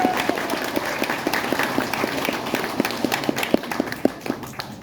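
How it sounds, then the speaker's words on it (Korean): Supporters at a political candidate's campaign office opening in Korea clap together, a rhythmic, evenly paced unison applause over a steady crowd murmur, fairly close and moderately loud. "이성윤을 위해 박수 크게 한번 보내주시죠"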